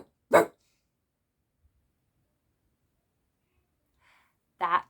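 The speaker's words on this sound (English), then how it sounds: "That was Cerberus, the three-headed dog of the underworld." A dog gives two sharp, separate barks, one near the start and one near the end, loud and close with silence between them.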